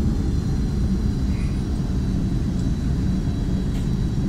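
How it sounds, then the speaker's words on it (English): Steady broadband engine roar of a Beechcraft Premier 1A jet in X-Plane 11 as it slows down, continuous and fairly loud with no voices. "Let's slow the aircraft down quite a bit."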